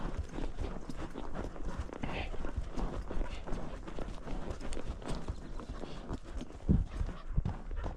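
A horse trots across timbered forest ground during cattle work, its hoofbeats muffled and steady beneath rustling movement and low voices, with a sharper thud near the end.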